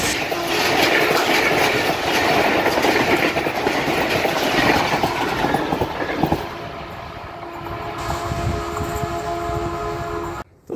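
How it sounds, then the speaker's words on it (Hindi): A ZCU 20 locomotive leads a train rushing past at high speed very close by, a loud sustained rumble and clatter that drops to a fading rolling hum, near an abandoned Koh-i-Noor railway station. "और ये काफ़ी स्पीड में है इस टाइम ये ट्रेन"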